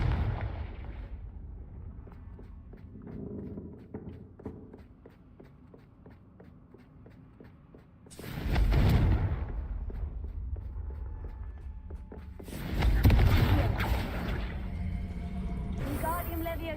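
Confringo blast spells erupt in the Hogwarts Legacy video game, two loud booming bursts several seconds apart over quiet ambient game sound with small rustles.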